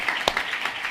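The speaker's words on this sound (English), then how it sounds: "round of applause." Round of applause from a leadership and culture conference audience, a brief spell of scattered clapping with one sharp nearby clap standing out, moderate loudness.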